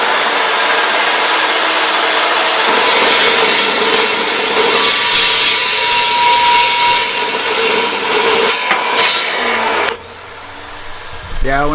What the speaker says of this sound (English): You get a few hundred cuts out of these dry cut saws